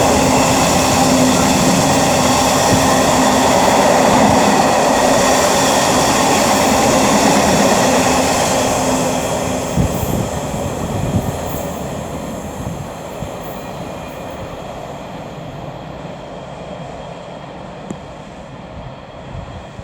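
Diesel train at Oxford station, a loud steady rail rumble with a sustained low tone that eases after about ten seconds into quieter clanks and wheel noise, with no talk.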